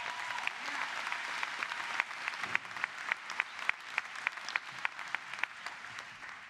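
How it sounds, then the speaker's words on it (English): At a law school commencement ceremony, an audience claps steadily in a sustained round of applause that swells into dense, crisp claps heard from within the hall. "Let's give those two men a round of applause."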